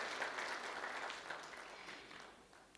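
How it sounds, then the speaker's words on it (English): Audience applause at a drought resilience general assembly in Addis Ababa greets a speaker. The clapping is faint and sounds slightly distant, a dense patter that slowly fades away over a few seconds. "It's good to welcome her with a clap as the microphone is turned on."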